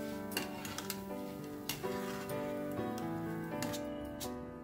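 Crisp fried boondi pearls clatter against a metal ladle over hot oil, giving a string of sharp, irregular ticks and taps at close range above a steady tonal hum.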